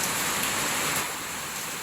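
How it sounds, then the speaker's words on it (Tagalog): Rain falls in a Philippine province as a dense, soft hiss of drops, steady and fairly quiet, easing a little toward the end, with no voices over it. "Ang ulan guys, di ba?"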